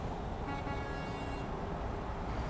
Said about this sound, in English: I think that's the default air horn.